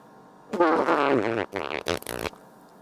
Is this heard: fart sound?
yes